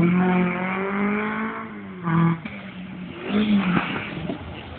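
A retro car on a show course engine drones and revs, easing off under braking then pulling away again with rising engine tone, heard fairly loud and continuous without talking.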